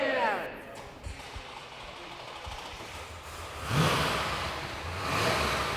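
A Chevelle drag racing car's engine starts and revs amid people talking, the engine swelling louder partway through and rising again near the end under the voices.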